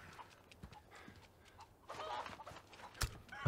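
Chickens cluck in Resident Evil 4 Remake, faint scattered clucks and scuffling under a busy game background, with a sharper burst near the end.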